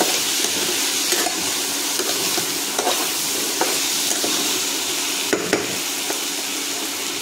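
Potatoes frying with Kashmiri red chili powder, stirred in a pan, with a steady close sizzle and regular scraping and tapping strokes of the spoon, no talking.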